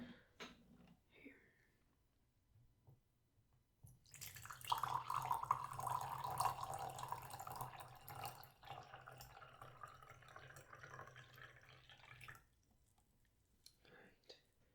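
Water poured into a glass for a drink in a quiet room, a steady close liquid stream lasting several seconds and then stopping, with soft-spoken talk before and after.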